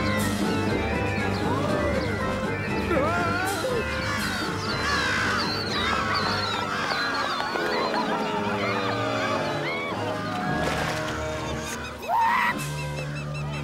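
Flock of cartoon birds squawking and honking frantically during an attack, a dense, loud, overlapping din of shrill calls lasting throughout, with a crash near the end.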